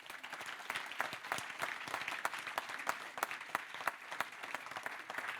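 Audience applause at an evening event with a small group of women guests, steady clapping with sharp individual claps standing out, moderately distant and even throughout, no voices over it.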